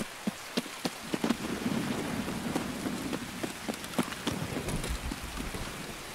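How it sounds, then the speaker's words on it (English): Heavy rain in the video game Escape From Tarkov, a dense steady downpour with sharp scattered drop impacts and low rumbling underneath, continuous and close. "This rain gotta chill."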